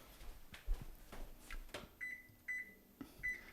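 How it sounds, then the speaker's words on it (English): A kitchen timer, set for tea brewing, gives three short clear beeps after some soft handling noises, close and fairly quiet. "we will set a timer for 2 minutes and 1 second"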